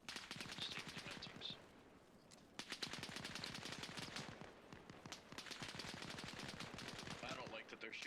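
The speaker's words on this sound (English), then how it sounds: "I don't like that they're shooting over our heads." Sustained automatic gunfire overhead during an outdoor platoon squad practice, a dense rattle of rapid shots that continues almost without pause, fairly distant and steady, with faint voices talking in the background.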